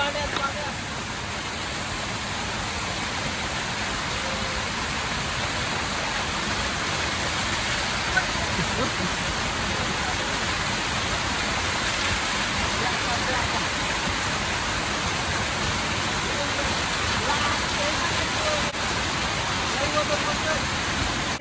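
Clear water flowing strongly, a dense, steady rushing roar that stays even and loud throughout with no breaks.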